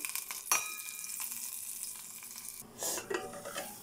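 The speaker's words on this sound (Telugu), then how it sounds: "ఉల్లిపాయ కొబ్బరి కాజు పేస్ట్ వేసుకున్నానండి. బాగా వేగాలండి." Onion, coconut and cashew paste frying in a pan for a vankaya capsicum tomato masala curry, with a soft sizzle and occasional stirring scrapes, faint and close.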